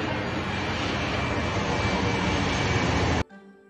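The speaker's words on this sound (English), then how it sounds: "A for aeroplane." An aeroplane passes with a loud, steady broadband engine roar that holds for about three seconds, then cuts off abruptly, leaving quiet tonal music behind.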